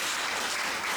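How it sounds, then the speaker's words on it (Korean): A brief burst of dense applause from a church congregation in Hanoi, many hands clapping at once in a steady, even roar. "저희가 박수로 환영하겠습니다."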